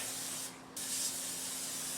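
A steady aerosol cooking spray hisses close by onto a baking sheet for two seconds, broken by one brief pause before it resumes.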